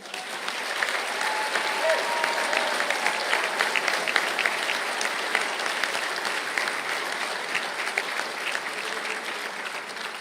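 Graduates and guests at an ATU Galway conferring ceremony break into a sustained round of applause in a hall, dense and steady for about ten seconds and fading gently at the close.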